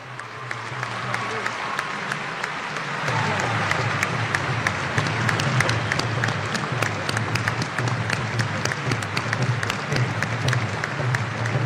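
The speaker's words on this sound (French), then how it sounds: "applaudissements nourris." Sustained, dense applause from a large standing audience at the FESPACO 2025 opening ceremony in Burkina Faso, a steady wash of many hands that swells slightly partway through, with faint crowd noise beneath.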